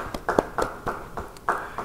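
A short burst of scattered hand claps, about eight sharp slaps spread unevenly over two seconds, moderately close with some room echo.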